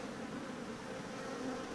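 Honeybees buzz steadily at an open hive, a soft, even drone close to the microphone with no voices.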